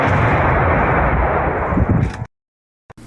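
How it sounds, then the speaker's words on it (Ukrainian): A loud, sustained blast roars for about two seconds, deep and rumbling, then cuts off abruptly into silence, with a brief pop near the end. "Взрив!"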